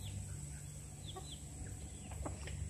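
Baby ducks cheeping in a farmyard, a few short high peeps scattered over a steady low hum and background noise, faint and somewhat distant.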